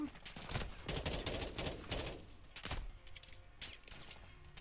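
Enemy gunfire in Call of Duty Modern Warfare II, rapid bursts of shots cracking in clusters through the first half, then sparser scattered shots and mechanical clatter over a steady game background.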